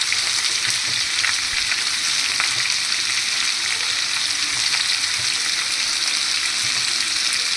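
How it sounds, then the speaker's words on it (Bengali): A pan of pumpkin and grated coconut fries with a loud, unbroken sizzle, steady crackling and occasional stirring, close up and without voices. "নারিকেল কুচিগুলো এর সাথে ভাজা হয়ে যাবে"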